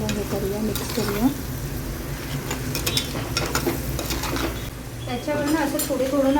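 Crab pieces fry in hot oil and are stirred in the pan, a loud constant sizzle broken by scraping and clattering stir strokes, with a voice talking over it throughout.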